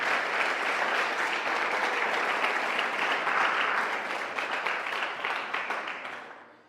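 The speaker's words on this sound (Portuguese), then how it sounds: "Vamos aplaudir a palavra de Deus com bastante força." A congregation at a religious retreat sermon gives sustained, loud applause, a dense wash of many hands clapping that holds steady and then slowly fades out.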